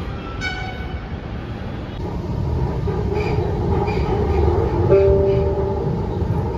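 A passenger train rolls into the last platform at Baiyappanahalli station with a loud, close, steady rumble of wheels on rails. A sharp brake squeal rises near the end.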